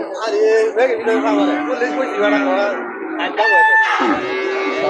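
Cattle and young calves at a livestock market sold ahead of the Qurbani festival, with loud drawn-out moos and lowing rising repeatedly over a busy crowd of voices and trader chatter.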